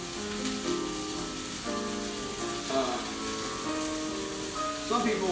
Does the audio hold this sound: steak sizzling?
yes